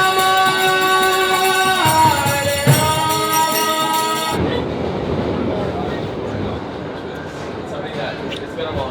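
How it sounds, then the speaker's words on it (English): A New York City subway train rumbles loudly and steadily, with a bright tonal whine from the motors over the first half before it drops into a broader, rougher rattle of wheels on track. "I think honestly taking the metro is one of the greatest things about visiting New York."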